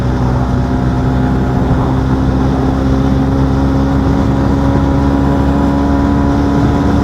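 Loud, steady engine drone from a 125cc motorcycle held at high revs in fourth gear on a long-distance tour, continuous and close with strong low hum and no speech.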